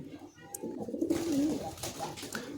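Pigeons coo softly nearby, a low rolling coo in the middle of the clip over faint background rustle and quiet ambient noise.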